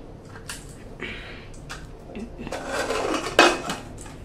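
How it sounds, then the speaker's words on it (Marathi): A pressure cooker lid is fitted and closed on a pot of achari-style potato and brinjal curry, giving a few close metallic clanks and scrapes of steel, with a sharp clatter near the end and faint kitchen noise between. "आता मी झाकण लावते आणि आपण 2 शिट्ट्या आपण याच्या काढून घेऊया"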